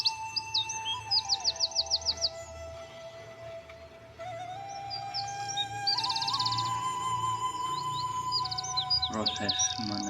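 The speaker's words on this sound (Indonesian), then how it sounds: "Proses menetasnya burung palak pakit Australia dalam inkubator sederhana" Cockatiel chicks hatching in a simple incubator give a run of high, rapid chirping calls alongside steady electronic tones and a low hum, with busy bird calls throughout.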